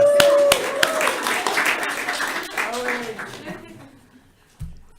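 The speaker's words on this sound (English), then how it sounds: "Let's give them an applause." An audience at a town hall meeting breaks into clapping, a dense scatter of hand claps that is loudest at first and gradually thins and fades away over several seconds.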